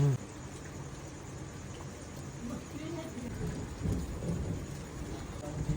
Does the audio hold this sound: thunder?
yes